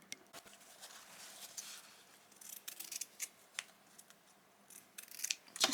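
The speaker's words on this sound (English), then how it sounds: "just trim that away, but leave about 1/4 to 1/2 inch" Scissors trim fabric while sewing a summer outfit, producing quiet crisp snips and rustling at close range, with the cuts growing denser and louder toward the end.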